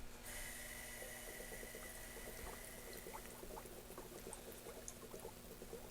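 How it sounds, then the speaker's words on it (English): Faint, rapid bubbling and fizzing comes from a Series 1 radiator held under an air pressure test, with irregular small pops and a constant background hiss over several seconds. "I'll turn down the air pressure to stop it bubbling"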